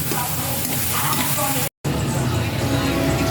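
Goat meat sizzles and crackles in a hot pan while being sautéed and stirred, a steady frying hiss close up, broken by a brief silent cut midway.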